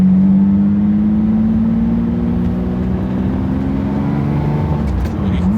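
A Lamborghini Diablo VS engine, restarted after 14 dormant years, runs close by with a steady, smooth drone. Its pitch rises gently as it revs lightly, and faint voices can be heard in the background.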